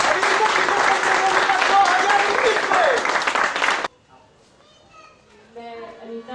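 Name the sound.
applause welcoming the lamp lighting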